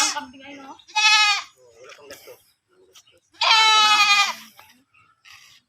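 Two loud, drawn-out bleats from a pregnant goat, close by, separated by a pause, with faint murmuring and small noises in between.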